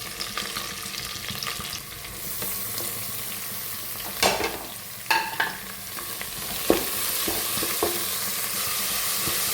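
Onions fry in a pan for Kerala-style chicken curry, a continuous hissing sizzle broken by a few distinct spoon scrapes and stirring knocks, with no talking.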